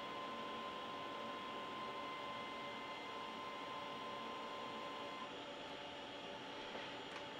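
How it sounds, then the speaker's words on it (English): Steady motor whir and hiss from a DIY 3D printer extruder pushing out filament during calibration, a continuous mechanical drone with no pauses and no talk. "And I will extrude another 10 millimeters."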